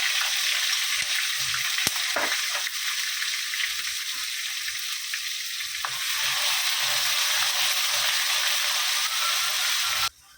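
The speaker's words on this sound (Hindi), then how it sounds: "अभी इसमें ये अदरक लहसुन का पेस्ट डालेंगे। इसके कच्चापन जाने तक इसको अच्छे से भूनेंगे।" Ginger garlic paste fries in hot oil for a chicken curry, giving a continuous loud, close sizzle with a few faint stirring knocks, cutting off abruptly at the end.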